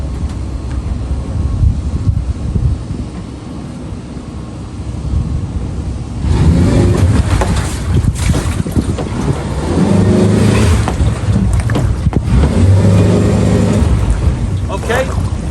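A pontoon boat's outboard motor idles, then surges louder partway through as it thrusts the boat up onto a trailer, holding a steady, close engine roar with water churning.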